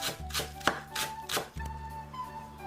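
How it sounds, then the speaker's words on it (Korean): Quick, steady knife chops on a cutting board as vegetables are finely minced for tofu steamed egg, about five crisp strikes in a regular rhythm, close and fairly quiet. "두부 계란찜에 들어갈 영양 밸런스를 맞춰줄 채소를 썰어줍니다"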